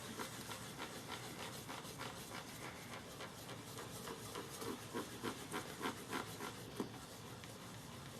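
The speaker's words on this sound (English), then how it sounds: "Just kind of buffing it in little circles" A pad rubbing shellac and oil into a violin during French polishing, soft close hissing friction with a faint rhythmic swish as the pad moves in small circles, quiet and steady.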